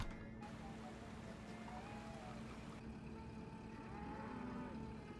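A cow moos in the Nancy Drew video game Secret of the Old Clock, a low drawn-out call sounding faintly over a steady background hum, with no speech.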